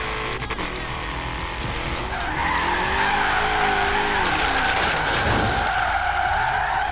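A racing car engine in the Forza Horizon 3 video game revs and rises in pitch, with tire squeal and skidding, steady and loud, game music faintly beneath.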